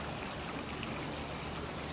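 Water flows steadily at a September 11th memorial fountain, a constant broadband rush without a break that fills the whole stretch at moderate level.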